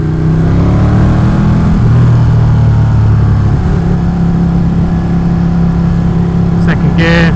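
A motorcycle engine pulls steadily in second gear while the rider splits lanes through traffic, a loud, continuous drone that stays close throughout.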